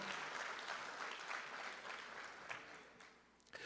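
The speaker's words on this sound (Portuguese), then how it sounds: "aplaude a ele mesmo, ele merece todo o aplauso." A church congregation applauds during a sermon, a faint, dense wash of clapping heard from a distance that gradually tapers off.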